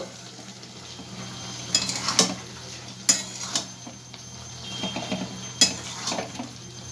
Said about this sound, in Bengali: দেখো আবার একটু ওলট পালট করে দেবো সবগুলোকে